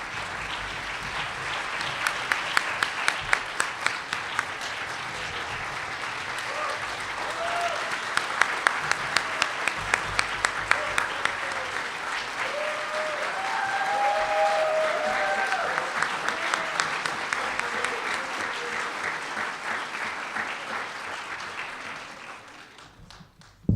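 Sustained audience applause at a 2015 university convocation ceremony as honorees rise and stand, a dense wash of many hands clapping steadily for over twenty seconds before fading out at the end.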